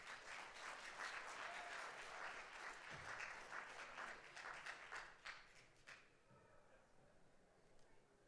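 An audience applauds a sheriff giving a talk on constitutional posses, a dense wash of clapping that carries steadily for about six seconds, then thins and fades away.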